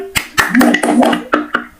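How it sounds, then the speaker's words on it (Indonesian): Several sharp hand claps land in rhythm over a singing voice, falling in pairs between the sung phrases of the Indonesian children's song "Kalau Kau Suka Hati" in a third-grade classroom. "Kalau kau suka hati, tepuk tangan."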